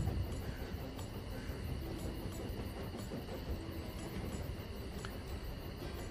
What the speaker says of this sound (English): My train is happily going on.